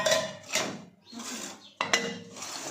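Rice being served from a cooking pot at home, with clattering scrapes and knocks of a serving spoon against the metal pot in two close bursts, a brief pause between them.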